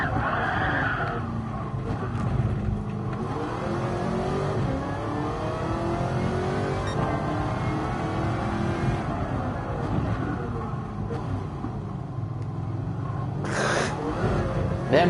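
A Porsche race car in Gran Turismo Sport revs loudly and continuously around a lap, its engine pitch sweeping up and down through gear changes, with a brief squeal of tires near the end.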